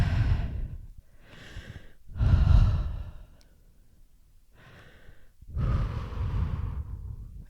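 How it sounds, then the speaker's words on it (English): A person takes big, deep, slow breaths, with three or four long audible exhales and inhales separated by quiet pauses, close and clear, with no speech. "We can take some big breaths"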